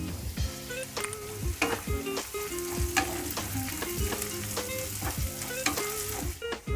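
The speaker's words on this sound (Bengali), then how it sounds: "ভালো করে এবার সবজিগুলোকে আমি ভেজে নেব" Chopped vegetables and green chillies fry in oil in a wok, a steady sizzle broken by repeated stirring scrapes and knocks, partly under background music.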